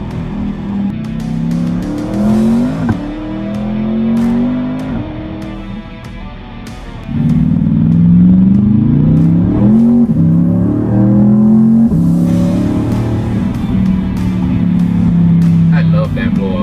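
A 920-horsepower twin-turbo Chevy Corvette C8 engine revs loudly and close, rising and falling in repeated surges, with a louder sustained run in the second half.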